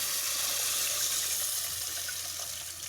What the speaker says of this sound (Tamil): இப்போ வந்து நம்ம கரைச்சி வடிகட்டி வச்சுக்கிற புளித்தண்ணியும் ஊற்றிக்கணும்